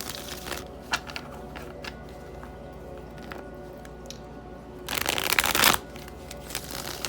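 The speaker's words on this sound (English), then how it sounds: "So I want to pull a few more tarot cards from this deck, just for some additional clarity." Tarot cards get shuffled by hand, with a few soft flicks and taps early on and then one dense riffling burst lasting about a second, close and crisp in a quiet room.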